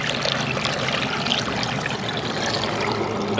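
Water spills over the rim of a bucket during a stone permeability test, a steady, close, continuous trickling rush with no talk.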